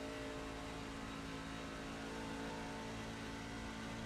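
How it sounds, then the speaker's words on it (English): Race truck engine in the iRacing video game drones steadily and loudly with a dense, continuous whir, no clear cutoff in the corners audible, and no talk over it. "And on board with Clinton, he is cutting the engine in the corners."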